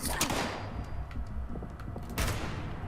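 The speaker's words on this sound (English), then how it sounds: "Right, I shot him with the sniper rifle." Sniper rifle fire in the video game Atlas, a couple of sharp gunshot bursts with rattling echoes over a busy noisy game background, no talk.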